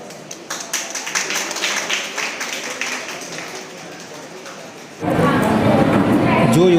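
Applause from the audience at an award ceremony in Malegaon honouring 600 COVID-19 warriors, starting thin and scattered, then swelling into loud, sustained clapping over the last two seconds.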